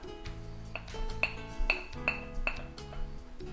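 Chopped mirepoix and peppers going into a pan of browned meat for a Bolognese, heard as a handful of bright clinks and knocks of utensil on pan over a light background, close and fairly clear, without speech.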